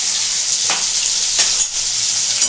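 Potatoes sizzle and fry steadily in a pan for a jackfruit and prawn curry, a close, continuous crackle with a few brief swells as they are stirred, no voices over it.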